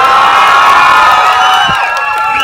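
Loud crowd cheering and whooping fills a hall during a talk by mountaineer Nims Dai Purja at Narayani Riverside, Bharatpur, sustained and dense with high excited voices and children shouting, fading slightly toward the end.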